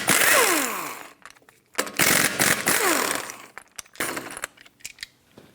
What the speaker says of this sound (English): take off all 5 of your lug nuts.